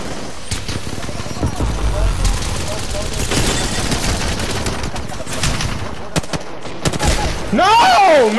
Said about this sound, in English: They're getting shot at now, I think? Yeah, they're getting shot at.